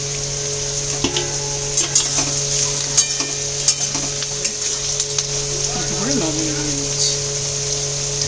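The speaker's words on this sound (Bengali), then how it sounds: "এটা দিয়ে ভাজা ভাজা করবো।" Ginger, garlic, green chilli, chopped tomato and vegetables sizzle steadily in a pan while a utensil scrapes and stirs in irregular knocks, with a faint voice now and then.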